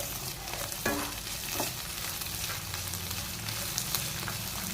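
Peas drop into a hot pan of tempering with garlic for mango avalakki upittu, setting off a quiet, steady sizzle with a few stirring scrapes and no voices.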